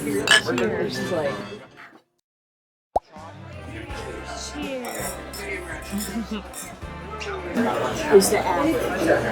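Glasses clink together in a toast at Giovanni's restaurant in Big Sur, a sharp bright ping cutting through lively table chatter and dish clatter, with people talking and laughing around it before and after.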